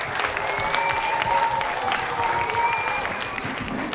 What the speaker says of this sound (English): Let's give them a clap, please, everybody.